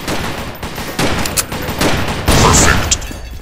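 Bursts of rapid gunfire crack loud and close during a Zombie Panic Source match, overlapping volleys rattling in quick succession with no talking.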